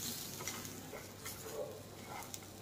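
Five or six garlic cloves roasting in a pan for a restaurant-style chutney make a soft, steady sizzle with faint ticks and pops. The sound is quiet and continuous, and no one talks.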